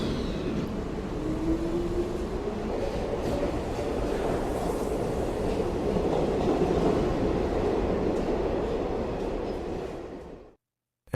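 A metro train on the Hillcrest line in a video game rumbles along steadily with a rushing, clattering roar that ends abruptly in silence near the end.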